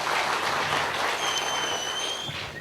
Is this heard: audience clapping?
yes